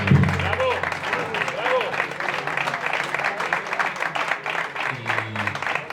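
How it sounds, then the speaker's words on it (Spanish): A bar audience at a round-table talk on the history of a Holy Week bursts into sustained clapping, steady and full, with some murmured voices and crowd noise beneath it. "un fuerte aplauso para ellos dos y por supuesto para la ciudad"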